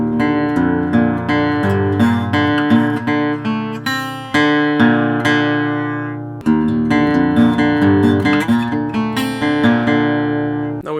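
An acoustic guitar plays a passage from a song, steady plucked notes and chords ringing alone at a firm, even level with a short break midway.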